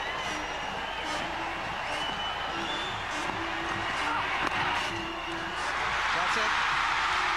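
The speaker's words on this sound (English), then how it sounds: "Crowd rises and cheers and waves and jumps and shouts." Cricket crowd at a West Indies versus New Zealand Test match in 2002 roars and shouts in a steady, dense wash of cheering, with a commentator talking over it.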